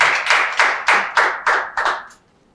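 A short burst of audience applause at a public lecture, seven rhythmic, closely spaced claps that swell and fade in even beats, loud and near, then silence.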